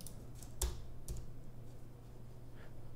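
Several light, close keystrokes from a computer keyboard as a short command is entered, sparse clicks spread over a quiet room hum with no talking.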